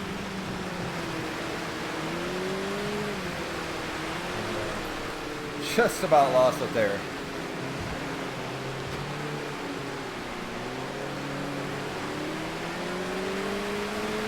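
A four-cylinder race car engine in Automobilista 2, driven on a wet Suzuka track, drones and wavers in pitch through the gears. Someone talks over it, and a short rattling burst comes midway.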